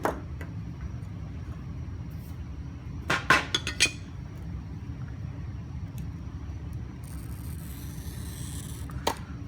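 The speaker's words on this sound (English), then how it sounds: "When I break, I'm using the flat side of the score, or excuse me, the breaker grozer" Breaker-grozer pliers snap a scored stained-glass half-circle inside cut: a tight cluster of sharp glassy cracks and clinks, then one more crisp snap near the end, each close and clear over a low steady room hum, with no talking.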